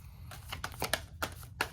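Tarot cards shuffled by hand at close range, a quick run of crisp riffling and slapping bursts with short gaps, fairly quiet and with no talk over it.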